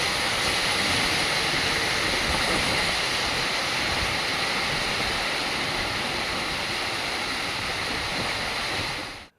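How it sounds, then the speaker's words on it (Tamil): Thirparappu waterfall, swollen after continuous rain, roars in a steady, dense, loud wash of falling water that holds constant until it cuts off abruptly. "மலையோர கிராமங்களில் பெய்து வரும் தொடர் மழை காரணமாக திருப்பரப்பு அருவியில் தண்ணீர் ஆர்ப்பரித்து கொட்டுகிறது"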